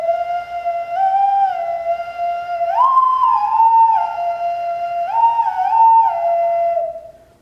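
A brightly painted Nicaraguan clay bird whistle, an owl-like figure, blown from the back, gives a steady close whistle that jumps up in pitch twice and warbles before dropping back, alone with no talk.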